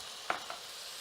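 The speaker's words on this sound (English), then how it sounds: "I'm going to add in some liquid in here" Liquid splashes into a hot pan of cooking seafood to deglaze it, setting off a steady close-up sizzle with a couple of brief clinks near the start.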